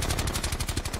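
Rapid automatic gunfire in a shooter game rattles in a quick, even burst of sharp shots, fairly quiet and steady throughout.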